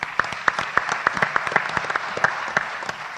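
An audience at a board of education meeting claps steadily for a few seconds, a scattered, moderately loud patter of hands with no voices.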